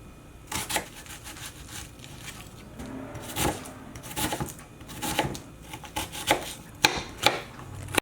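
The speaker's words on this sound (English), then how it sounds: "So I'm gonna chop this onion like a little square just so I can add it to the chilaquiles" Knife chopping an onion into small cubes on a cutting board, a series of sharp close taps in irregular clusters, some quick and rapid, others spaced apart.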